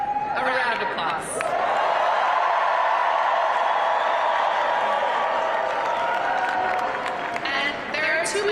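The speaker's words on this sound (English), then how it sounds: "So please join me in giving Zoran, our friend, a round of applause." Crowd applause and cheering at a political rally in New York City, a sustained loud wash of clapping with whoops rising over it, continuing steadily for several seconds.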